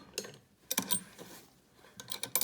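Sewing machine running a reverse stitch on a fabric face mask: short mechanical bursts of rapid clicking and whirring, separated by quiet pauses, with a few sharper ticks toward the end; close and fairly faint.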